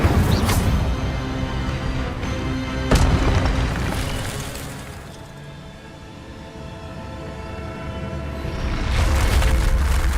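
A fire spell cast in Witch Simulator 2023 gives a heavy booming burst at the start, then a second sharp blast, with a low rumbling roar that fades and swells again toward the end, with no voices.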